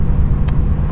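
Truck speeding past on a city road, a loud, close, low rumble running throughout with a short hiss in the middle.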